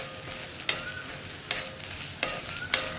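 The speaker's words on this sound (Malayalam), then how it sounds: "ഇനി ഗരം മസാലപ്പൊടിയും കൂടി നന്നായിട്ടൊന്ന് കുക്കായി വരട്ടെ." Garam masala and other spice powders fry in a pan for an egg curry, giving a steady close sizzle broken by about four sharp scraping stirs of a spoon against the pan.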